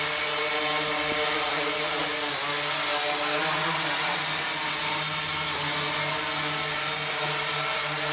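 Small drone flies around indoors with a steady high-pitched whine and buzzing rotor hum, constant and close throughout.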